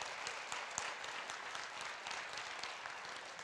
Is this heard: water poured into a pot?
no